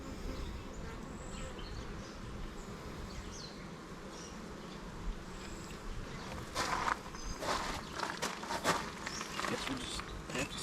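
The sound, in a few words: honeybees buzzing around a beehive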